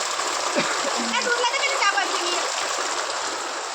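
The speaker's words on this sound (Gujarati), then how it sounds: "હાય વરસાદ આવે" Heavy monsoon rain pours down and splashes in a steady broadband rush, with people talking nearby over the downpour.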